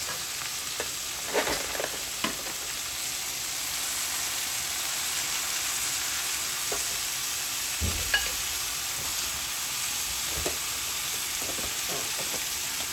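Cooked rice is stir-fried in a hot pan for egg fried rice with onion, capsicum and bean sprouts. A soft steady sizzle runs throughout, broken by occasional scrapes and stirring knocks.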